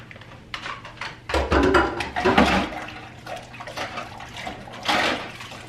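Mixer beaters are rinsed under a running tap, with a gushing, splashing stream of water that rises and falls over several seconds, close and fairly loud, broken by clattering as the beaters are moved.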